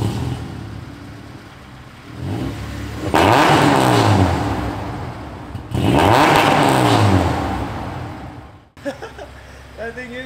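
A 2003 Acura RSX Type S with a 300 wheel horsepower K20/K24 hybrid engine revs hard in two rising pulls with a short lift between them, loud and close, then drops away as people talk.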